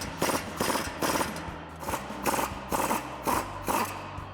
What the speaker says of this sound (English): Now we can go ahead and remove the bolt using our 15mm socket and our 18mm wrench.